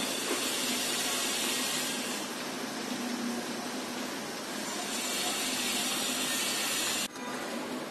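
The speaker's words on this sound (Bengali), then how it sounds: "এখন আমি নাস্তাগুলি তেলের মধ্যে দিয়ে দিচ্ছি।" Semolina snacks frying in hot oil, a dense, steady hiss of bubbling oil that stays close and loud throughout, with a brief dip near the end.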